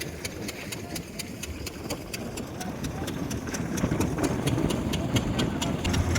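A tractor engine runs at a steady idle during loading: a low, continuous drone with a rapid mechanical ticking on top, which grows slightly louder toward the end.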